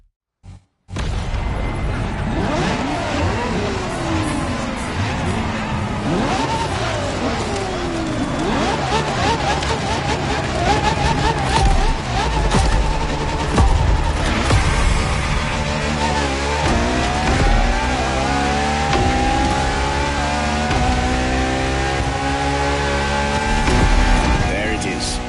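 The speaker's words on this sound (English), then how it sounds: "La Ferrari is the first Ferrari we have with an hybrid engine." A Ferrari LaFerrari hybrid supercar roars through rising and falling revs, loud and continuous with shifting engine pitch, after a brief opening thump.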